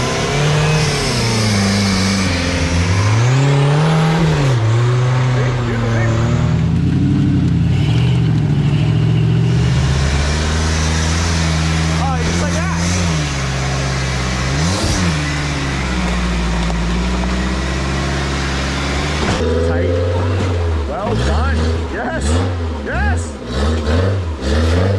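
A car's engine revs hard and climbs in pitch as it crawls up a steep rock hill on a hard rock-crawling trail, loud and close with repeated throttle surges, while people talk over it.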